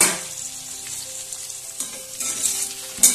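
Onion frying in oil with grated spices mixed in, a continuous sizzle punctuated by several scraping stirs and clinks of a spatula against the pan, close and without talk.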